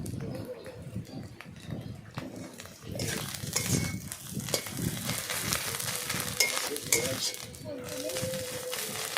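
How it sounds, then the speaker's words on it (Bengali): Kharkhon leaf paste fries in oil in a wok with a steady sizzle and scraping stirring, close and moderately loud, while a person talks over it. "কড়াইতে দিয়ে তেল দিয়ে ভালো করে সেটাকে ভেজে নিলাম"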